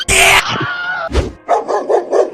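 A dog tussling with a man over a newspaper gives loud, close yips and barks, then a quick run of four short whimpering yelps.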